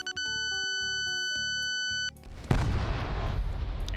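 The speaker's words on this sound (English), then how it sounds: "There's the explosion." An explosion in a competitive video game match: a string of electronic beeps and chimes cuts off, then a sudden loud blast bursts in and trails into a dense, noisy rumble.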